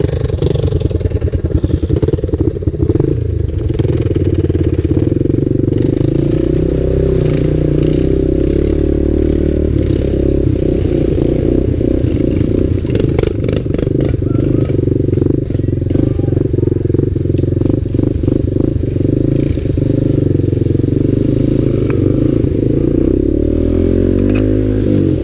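A three-wheeler ATV engine runs loud and close with a rough, rattling drone, rising and falling in rough revving surges amid clatter and mechanical scraping, with a voice faintly underneath.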